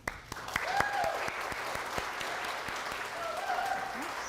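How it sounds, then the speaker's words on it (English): Audience applause at an evening museum talk, a steady wash of clapping at moderate level through the whole stretch, with faint voices rising above it at moments. "please join me in a warm round of applause for Dr. Amy Rahn."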